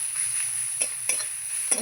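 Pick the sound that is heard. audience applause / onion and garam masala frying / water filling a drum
onion and garam masala frying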